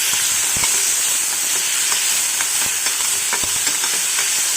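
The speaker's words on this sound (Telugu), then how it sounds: "ఇందులో దొండకాయలు, పచ్చిమిర్చి, ఆనియన్స్, టమాటో, ఎల్లిపాయలు, జీలకర్ర వేసేద్దాం. ఇలా అన్నీ వేసి ఒకసారి కలిపిద్దాం." Ivy gourd, green chillies, onions, tomato, garlic and cumin sizzle and fry in hot oil, with a steady loud hiss broken by scattered clicks and scrapes of a spoon stirring the pan.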